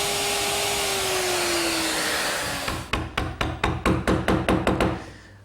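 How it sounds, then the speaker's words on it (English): Router fitted with a half-inch bit cutting mortises in wood for a dining table, a loud steady motor whine whose pitch slowly drops, then stops, followed by about ten sharp, evenly spaced close knocks; no speech. "I'm using a 1/2-inch bit in my router."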